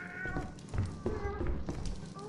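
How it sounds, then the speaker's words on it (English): Cat meowing inside the video game Lethal Company, a few short mewing calls heard over a murmur of background voices and game sound, moderately faint. "I'm hearing a cat."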